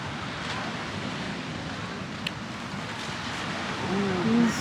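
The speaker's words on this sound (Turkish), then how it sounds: "Hem de felaket dalgalı." Rough surf breaking at a public beach, a constant broad roar of waves with wind noise on the microphone, steady throughout and swelling slightly toward the end.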